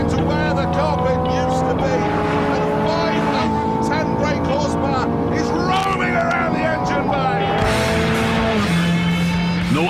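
Ferrari F430 Scuderia with 510 brake horsepower at full throttle on a test track, its engine note rising in steady harmonic sweeps through the gears, loud and close throughout, with someone talking over it.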